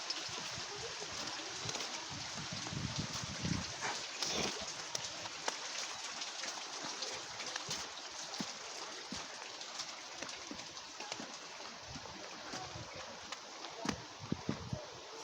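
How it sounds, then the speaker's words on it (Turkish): Stream flowing below a bridge, heard as a continuous broad rush of water throughout, fairly steady and moderately distant, with scattered knocks and faint sounds from the surroundings. "Dere var aşağıda. Dere akıyor çoğaltıyor."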